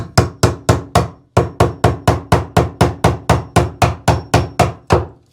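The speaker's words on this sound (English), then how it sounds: "Put the box there and just hammer it in place." Steady hammer blows drive an electrical box into wood in a fast, even rhythm, about twenty sharp knocks with a short pause after the first few, close and loud.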